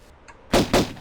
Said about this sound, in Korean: 지금 위에서 쏘고 있거든요?